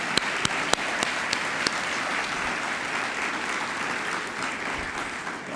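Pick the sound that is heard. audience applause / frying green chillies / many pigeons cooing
audience applause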